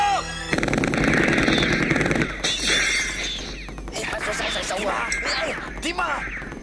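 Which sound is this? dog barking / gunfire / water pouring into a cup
gunfire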